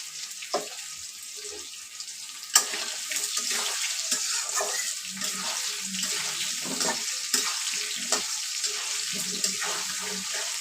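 Chicken pieces frying in a pan with spices for chicken kasha, a steady hissing sizzle with occasional clinks and stirring knocks, moderately loud and continuous throughout.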